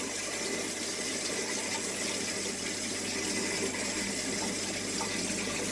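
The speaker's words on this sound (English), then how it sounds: "just put a little dash of water in there like that" Water pours continuously into a fish fry container while breeding gold rams, a steady, close, soft splashing trickle with no talk.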